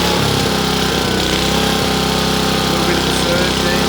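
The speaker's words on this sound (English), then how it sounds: "A little bit of a surge there." Honda HRU216 walk-behind lawn mower engine running loud and close, a steady buzzing drone with its pitch and rhythm wavering as it surges, no speech over it.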